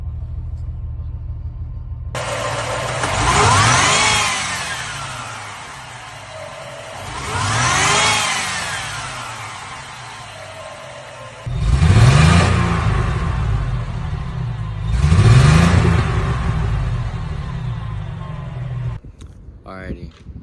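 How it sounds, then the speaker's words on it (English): A 1990 Ford Thunderbird SC with its supercharged engine at idle is revved four times, each rise and fall of rpm swelling loud and close, with a low idle rumble between the pulls. "Still happy to be revving."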